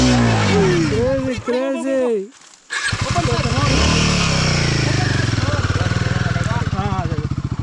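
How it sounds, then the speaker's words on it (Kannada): A motorcycle engine revs hard at an off-road training camp, rising and falling loudly close by, with people talking over it; the engine dips briefly near the middle before roaring back. "ಹೈ ರೇವಲ್ ಇಡಿ ಇಂಜಿನ್ ಕೊಡಿ ಎಕ್ಸ್ಲೇಟರ್ ಕೊಡಿ. ಹೈ ರೇವ್ ಮಾಡಿ"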